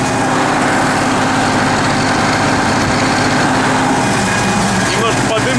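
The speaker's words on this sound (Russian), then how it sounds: "Но трактор уже рычит весь," T-150K tractor engine roaring under heavy load while pulling a cultivator through wet field soil, a loud, constant, gritty drone heard from the cab with engine noise dominating.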